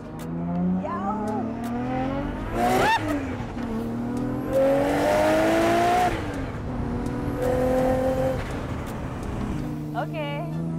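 HKS Zero R, a Nissan Skyline R32 GT-R based car, accelerating hard with a rising engine whine through several gear shifts, heard from inside the cabin, loud and continuous, with people's voices reacting over it.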